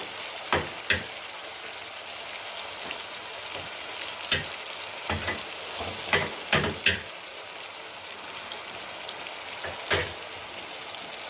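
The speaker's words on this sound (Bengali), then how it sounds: "কড়াইয়ে তেলটা দিয়েছি তেল গরম হলে পেঁয়াজ বাতা আর রসুন বাতাটা পেস্তা দিয়ে দিচ্ছি" Onion and garlic paste fries in hot oil in a wok, a constant soft sizzle broken by scattered sharp pops and crackles, with no one talking.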